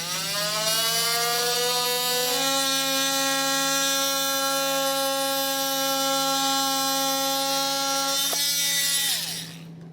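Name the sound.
oscillating multi-tool trimming a vehicle panel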